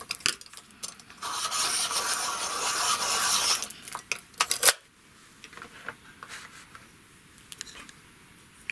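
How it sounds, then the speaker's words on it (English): A black coloured pencil is sharpened during a coloured-pencil drawing, giving a few seconds of steady close scraping and rasping, then short scattered taps and light handling noises with no talking. "Let me just sharpen that one up."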